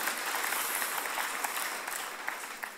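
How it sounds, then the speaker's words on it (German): Congregation applauding during a sermon, a dense steady wash of many hands clapping that holds through and tapers slightly at the end. "Wollen wir dem Herrn mal richtig einen Applaus geben, ja?"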